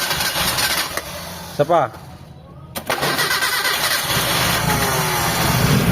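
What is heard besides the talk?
engine cold starting after piston repair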